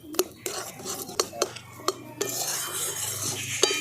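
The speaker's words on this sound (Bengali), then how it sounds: "এভাবে নেড়ে যেতে হবে যতক্ষণ না শুকনো হচ্ছে" A spoon scrapes and taps around a pan as potato chomchom batter is stirred, giving sharp, irregular clinks over a soft background hiss that grows a little louder toward the end.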